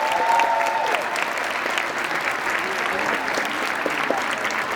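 Audience applause for dancers at a dance school's student show, a dense, steady clapping from a large crowd that fills the whole stretch at even loudness, with no talk over it.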